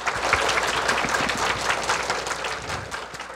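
Warm, sustained applause from a seated audience welcoming three teachers, a thick continuous patter of many hands that stays strong and eases slightly toward the end.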